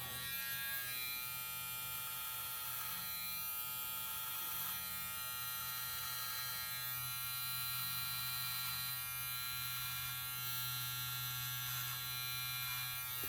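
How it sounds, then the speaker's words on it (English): A Hnice 11500 RPM hair clipper trims a beard, its motor giving a steady, tonal electric buzz that holds even and constant throughout, fairly quiet, with no talk. "I'm gonna turn this on, and you can feel that nice vibration."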